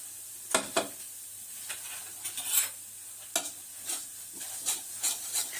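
Pieces are tossed and turned together in flour seasoned with salt, paprika, curry powder, cheese flavouring, garlic powder and onion powder, making repeated dry rustling and scraping swishes in irregular bursts, close and fairly loud.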